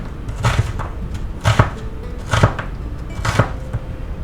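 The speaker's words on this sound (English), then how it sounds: "we'll go ahead and chop that up. Now we're cutting it up kind of coarse" An onion being chopped coarsely with a knife on a board. Four distinct, evenly spaced thuds land about one second apart, close and clear, with no talk over them.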